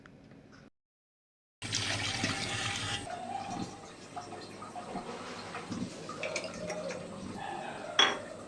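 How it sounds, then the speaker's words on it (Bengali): A spoon stirs and presses food through a kitchen sieve, giving scraping, clinking metal sounds and light splashes of liquid that come and go, close by, with a short silent gap near the start. "ছাঁকনিতে ঢেলে নিলাম এবং এটাকে চামচ দিয়ে নেড়ে নেড়ে এর আঁশগুলো আলাদা করে নেব"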